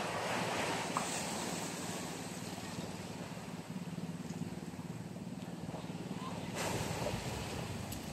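Gentle, continuous wash of ocean waves on a shore, with soft wind noise and a slight swell of surf near the end.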